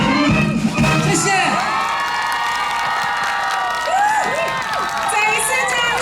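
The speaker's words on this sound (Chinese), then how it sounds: "再一次掌声加尖叫声" A large outdoor concert crowd at a railway culture festival in Chaozhou, Pingtung, roars with loud, sustained cheering, high screams and shouts for a singer and a wind band, with some applause mixed in.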